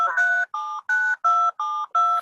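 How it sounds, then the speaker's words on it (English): Six telephone DTMF keypad tones dialed to join a meeting, each a steady two-pitch beep about a third of a second long, evenly spaced with short gaps, loud and close with no voices. "Can you hear that dialing in?"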